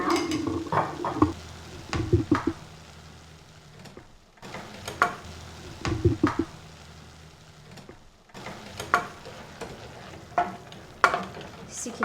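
Fresh basil stirred into a sizzling pan of food, a steady frying hiss broken by repeated scraping stirs in uneven bursts, fairly close, with brief quiet gaps between passes.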